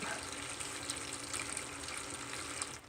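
Water flows steadily through a gold sluice, a constant, fairly faint rushing and trickling wash with no break across the whole stretch and no talk.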